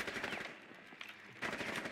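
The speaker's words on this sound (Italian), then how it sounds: "Che sto sparando tantissimo." Rapid machine gun bursts from the Rainbow Six video game, dense and loud, with a short dip in the middle before the firing surges again.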